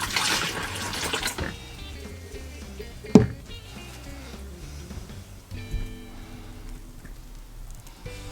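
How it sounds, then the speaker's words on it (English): Water pours and splashes into an RV toilet bowl, loud at first and then settling into a softer trickle, with one sharp knock partway through. "we're going to put some more water in here"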